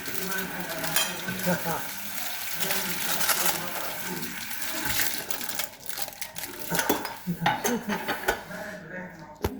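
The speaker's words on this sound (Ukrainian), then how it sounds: "А, посуду будуть мити. Посуду будуть мити." Dishes, pots and cutlery clatter and clink as they are handled and washed, busy close-up clanking with running water and occasional voices in the background.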